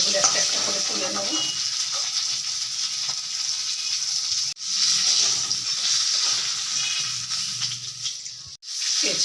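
Katla fish heads sizzling in hot oil, a loud continuous frying hiss with crackles and bubbling that briefly cuts out twice as pieces are turned or lifted.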